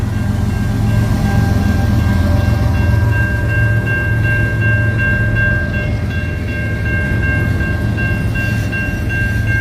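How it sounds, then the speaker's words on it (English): CN locomotive 3807 passing at night with a train: a steady, loud rumble of rolling cars and engine throughout, with a sustained high tonal whine over it. "That was 3807 CN locomotive."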